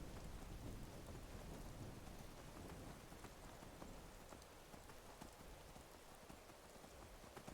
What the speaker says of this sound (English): that thunder was really loud